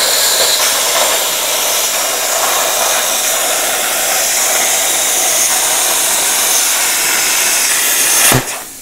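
Plasma cutter slicing through 3mm steel plate, a loud steady roaring hiss of air and arc that runs unbroken for about eight seconds, then cuts off abruptly with a short burst as the cut ends.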